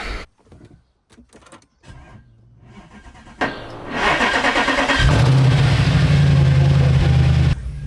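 A V8 Audi S5 engine, which had suffered cooling damage, cranks with faint clatter, then catches and starts and revs up loudly to a steady, close idle roar.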